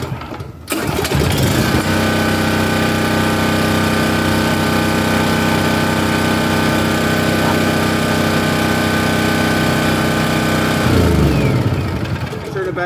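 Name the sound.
Champion dual fuel generator running on propane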